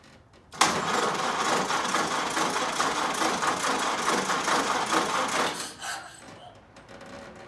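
A 1929 Ford Model A engine cranks over steadily after a sharp start, its rapid chugging rhythm loud and close for about five seconds before dropping off into quieter mechanical rattling.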